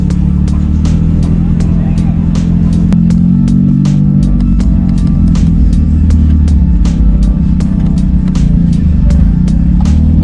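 A car rolls slowly through a busy car meet with a steady, loud engine drone and road hum, while people talk over it and faint clicks tick in the background.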